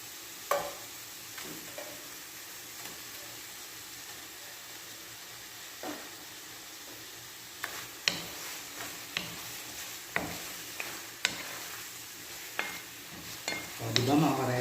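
Boiled eggs and hotdogs get stirred in a frying pan, and a spatula scrapes and clinks against the metal every second or so. A soft sizzle keeps on underneath, with a louder clatter near the end.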